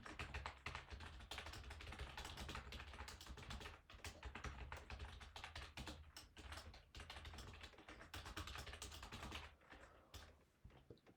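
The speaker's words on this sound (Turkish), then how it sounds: "O yüzden hızlıca yazıyorum." Fast, steady typing of code on a computer keyboard, a dense run of close, crisp key clicks with a few short pauses, continuing without speech.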